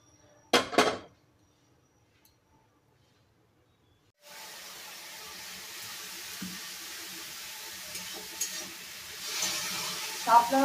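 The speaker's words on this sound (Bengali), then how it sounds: "শাপলা রান্না করবো, সর্ষে আর শুকনো লঙ্কা ফোড়ন দিয়ে দিয়েছি" Mustard seeds and dried red chillies temper in hot oil, a brief clatter and then silence before a steady moderate sizzle rises, with faint clinks of a utensil in the pan.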